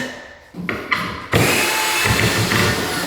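A power drill drives screws into skirting board, two short whirring bursts followed by a longer loud continuous run as the screw bites into the wood, close up.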